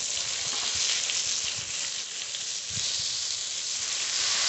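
Spice paste sizzles loudly in a pan of fried pointed gourd, a dense steady hiss of frying with faint stirring bumps beneath, continuous and close with no talk.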